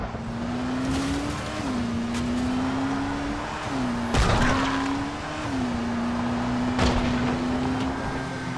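Car in the video game Dying Light driving off the road, a steady engine drone that rises and dips with revs, broken by a few sharp crashing thumps from rough terrain.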